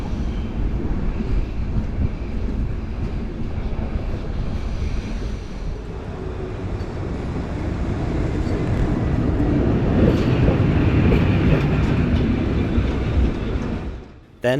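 A deluxe sleeper train running between Turkey and Bulgaria is shunted back toward the previous station, giving a steady low rumble of rolling cars that swells louder near the end before cutting off abruptly, with wind-like noise and no talk.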